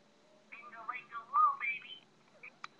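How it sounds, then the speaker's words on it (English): A phone ringtone sounds as a short, clear electronic melody of rising and falling tones, heard close and alone for about two seconds before stopping. "That's my ringtone."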